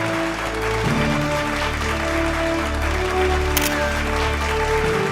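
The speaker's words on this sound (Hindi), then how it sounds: "आप सभी की जोरदार तालियों के बीच में" Applause from an audience at a business conference in Uttar Pradesh as a guest is called up to the stage, steady dense clapping filling the room without a break.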